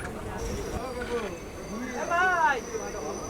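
A train slowing to a stop at Bagbazar station in Kolkata, with squealing wheels and metallic screeches rising and falling over a busy rumble, while someone talks nearby.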